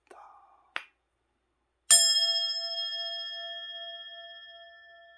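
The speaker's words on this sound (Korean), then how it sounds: "이 종소리를 듣고" A temple bell struck once by hand rings out with a bright clang and then a long, clear, slowly fading ring, after a couple of faint taps and rustles.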